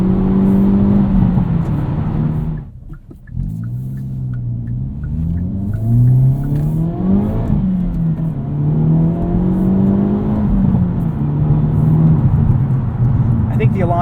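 A loud Hyundai Elantra N engine with manual transmission, in full N mode, revs and pulls close by, its pitch rising and falling, with a brief drop before climbing again; a voice talks over it.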